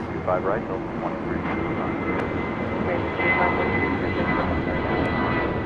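An airliner takes off at LAX with a broad, steady engine roar heard from a distance. Air traffic control radio chatter and a nearby voice sound over it.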